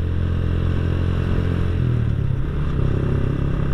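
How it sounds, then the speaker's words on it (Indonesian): A Honda Astrea Grand motorcycle with a Bobokan exhaust idles close by, a steady deep, rumbling bass tone with slight clattering, loud and continuous. "audionya itu kurang kedengeran ya untuk knalpot ini karena ngebasnya itu ngebas adem dan bulat"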